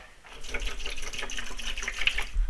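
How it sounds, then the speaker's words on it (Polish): Tap water pours into the tube of a washing vacuum cleaner, a continuous splashing trickle that holds at moderate loudness throughout, close by. "teraz mam zalać wodą do połowy tej rurki"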